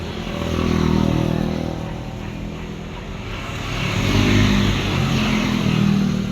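Motorcycles passing on a road on a warm day, a continuous engine drone that swells, fades and swells again as vehicles go by at moderate distance.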